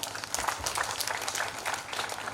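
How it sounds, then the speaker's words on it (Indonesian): Brief burst of scattered clapping from a village audience at a community outreach meeting, uneven claps at moderate level that blur together for a couple of seconds. "Kepada beliau mari kita berikan tepuk tangan"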